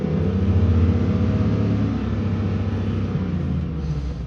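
Chevy truck with an LM7 V8 engine held at a steady high idle near 4,000 RPM during a crankshaft relearn, a loud continuous droning rumble with no words spoken.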